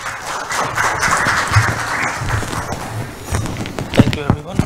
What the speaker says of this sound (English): So a big round of applause to Saurav Ghosh.